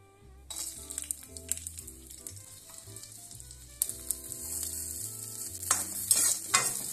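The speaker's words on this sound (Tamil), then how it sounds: "ஒரு ஸ்பூன் நெய் போட்டு முந்திரி திராட்சை எல்லாம் வறுத்தலாம்" Soft crackling sizzle of cashews and raisins frying in ghee, with occasional stirring scrapes and a louder burst of sizzling near the end.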